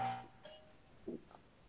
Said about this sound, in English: That wasn't my bell. That's my bell.